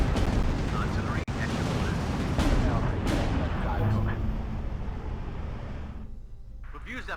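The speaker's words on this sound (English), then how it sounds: "Artillery" Artillery fire in a World War II strategy video game, a continuous roar of booms and blasts with a sharp crack early on, heard under game voices.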